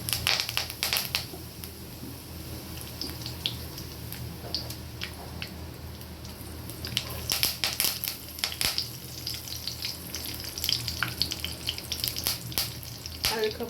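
Mustard seeds, fenugreek and curry leaves frying in hot oil for beans poriyal, a steady close sizzle full of sharp popping crackles that carries on throughout with no pauses.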